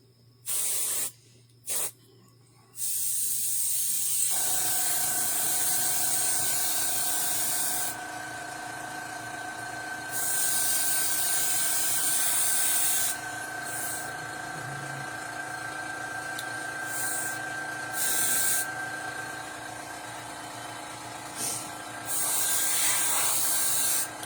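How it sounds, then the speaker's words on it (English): An airbrush sprays brown paint onto a werewolf mask, hissing steadily for long stretches, broken by short gaps and a few sharper bursts, close by with no talking. "and just lightly spray a little bit of brown in there to blend in"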